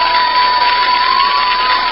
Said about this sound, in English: how about a big round of applause, ladies and gentlemen, for Yuri, the floor manager here.